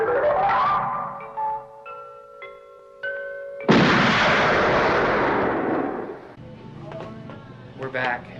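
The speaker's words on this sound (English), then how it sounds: "You might hear a large explosion at this point" A large explosion sound effect erupts as a sudden loud, broad roaring blast that rumbles and slowly fades, preceded by tonal electronic beeps and followed by faint voices.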